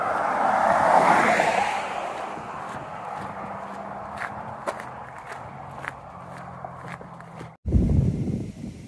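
Cars hauling along a road beside the Buckeye Trail near West Branch State Park at night, a steady traffic hiss swelling and fading as vehicles pass, with footsteps crunching on the trail and a brief louder rush near the end.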